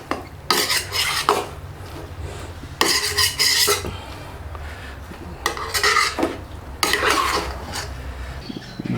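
Cooked rice with potatoes and eggs being stirred in a pot, the spoon scraping and clinking against the metal in bursts, close and fairly loud over a steady low background hum.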